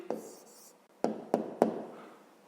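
A pen writes out the answer to a fifth-grade math exercise on paper, making soft close scratching strokes broken by three sharp taps, quiet and alone.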